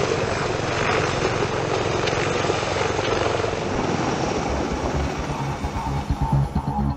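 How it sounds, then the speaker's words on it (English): Sea Stallion heavy-lift Marine Corps transport helicopter, a loud steady roar of rotor and turbine noise that holds without a break, with no voices. "The Sea Stallion is a heavy-lift transport helicopter"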